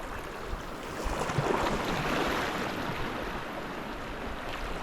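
Waves surge steadily against a rocky shore on Cardigan Bay, West Wales, with a broad roar that swells slightly in the middle and wind buffeting the microphone throughout.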